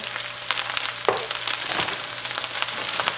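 Hawaiian fried rice with chopped pineapple being stirred together in a hot pan, a steady close sizzle broken by scraping, tossing sounds of the spatula and rice, with no talking.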